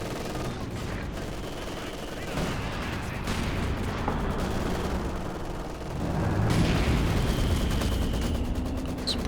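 Twin Bren machine guns fire in a Company of Heroes 2 battle, rattling bursts amid a dense, continuous din of gunfire and distant booms that swells louder toward the end.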